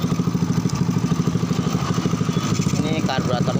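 A Honda Grand motorcycle engine with a faulty, out-of-adjustment carburetor idles up close, a steady, rapid, even chugging that runs through the whole stretch.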